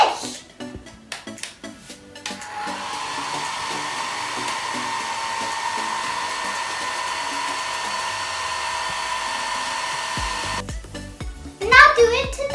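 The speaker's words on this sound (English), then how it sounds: "Slowly switch on the hairdryer and move it to the shape." A hair dryer is switched on and blows steadily at a shape for about eight seconds in a classroom science demonstration on streamlined design, with a few clatters and handling sounds before and after.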